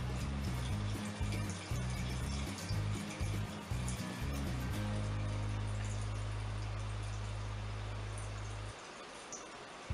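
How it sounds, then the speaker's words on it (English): White vinegar pours over lemon and lime peels in a container, a steady splashing liquid stream running nearly the whole time over a low droning hum, then dropping away shortly before the end. "now we are going to pour the white vinegar over the peels"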